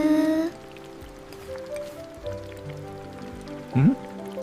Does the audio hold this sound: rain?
yes